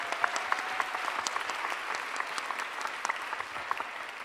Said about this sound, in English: Big round of applause for Nicole.